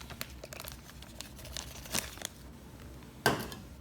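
A plastic bag crinkles in short, scattered bursts as half and half is poured in for a homemade ice cream mixture, with a sharper crackle near the end; fairly quiet and close, with no talking.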